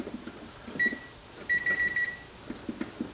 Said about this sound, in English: I'm gonna preheat my oven